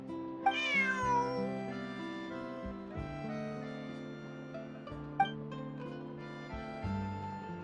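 A cat meowing in Genshin Impact: a clear, rising meow rings out near the start, followed later by a shorter one, both set over sustained, gentle background music.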